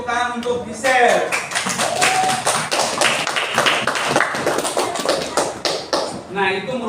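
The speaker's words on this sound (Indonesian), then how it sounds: "beri tepuk tangan untuk Gisel" Classroom pupils clap together for a classmate at an elementary school, a dense burst of rapid hand claps lasting several seconds, close and fairly loud, with a teacher's voice briefly before and after.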